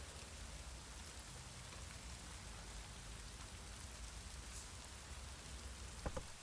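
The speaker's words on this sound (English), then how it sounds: "Midges were biting on account of this downpour." Heavy rain downpour in the Witcher 3 video game, a steady dense hiss of falling water filling the scene from start to end, with a couple of brief sharp knocks near the close.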